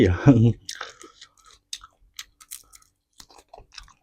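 Close-up chewing of hot-air baked chicken feet, the bones crunching in a string of crisp, separate bites and chews after a short burst of speech at the start.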